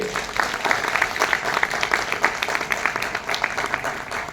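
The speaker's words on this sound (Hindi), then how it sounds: "तालियां बजाइए।" An audience at a business presentation applauds, a moderate burst of many hands clapping with distinct individual claps standing out, steady for about four seconds.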